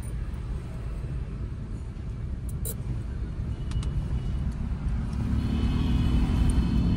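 A car engine hums and rumbles steadily from inside the vehicle as a learner drives in second gear, growing slightly louder toward the end, with no talk over it.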